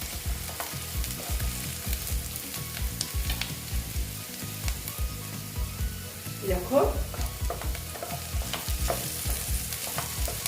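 Onions sizzle in a frying pan while being stirred, a loud continuous crackle punctuated by rhythmic scraping strokes of a spatula, close and busy throughout.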